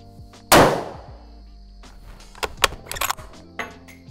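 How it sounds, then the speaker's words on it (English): A single sharp rifle shot fired at a target while zeroing a riflescope cracks loudly and close, decaying quickly, followed by quieter scattered clicks and handling noises. "fire an initial shot to see where it impacts the target"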